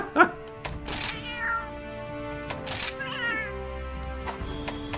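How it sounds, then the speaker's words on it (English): An old cat meows: a few drawn-out, wavering cries, near and moderately loud, amid low background rumble and small knocks. "Old cat meow sounds are what's being requested right now."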